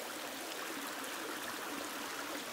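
A stream running down into a waterfall, a continuous broad rush of flowing water, steady and fairly faint, with no voices or other sounds.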